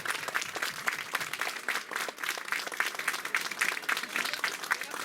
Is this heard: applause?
yes